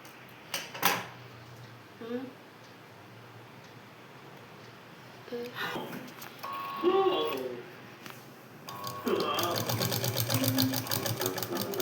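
A sewing machine stitches blouse fabric in short bursts of rapid whirring, with clicks and handling noises between runs, ending in a longer sustained run; a voice speaks faintly at moments.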